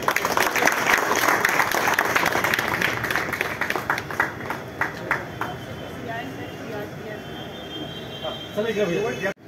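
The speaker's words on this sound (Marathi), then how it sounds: "सर्वांनी टाळ्या वाजवाव्या जरा।" An audience applauding at a felicitation ceremony held by a library for meritorious students: dense, sustained clapping fades into looser scattered claps, with a voice rising near the end.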